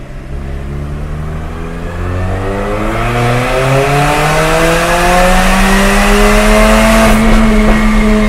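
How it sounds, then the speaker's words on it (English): Mercedes-Benz CLA45 AMG with an Armytrix valved exhaust open, pulling hard through third gear from low to high revs; a loud, close engine note climbs steadily in pitch with a roaring, raspy exhaust. "we're going to run our test from 2500 RPMs to 6500 RPMs, doing a third gear pull with it open"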